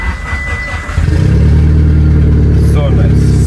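A Porsche 911 Carrera engine starts and revs up, a loud close buzzing drone that holds steady after a quieter opening with talk, brief chatter near the end.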